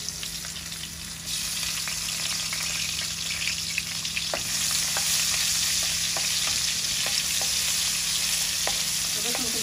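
Garlic paste frying in oil in a wok, a continuous loud sizzle with occasional stirring clicks that grows slightly louder partway through.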